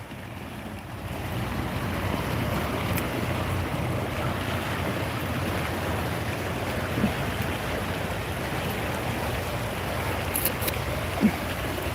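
Water flows constantly at the Echo Canyon rest area in Utah, a steady broadband rushing wash that holds at one level throughout, with wind buffeting the microphone and a few faint clicks.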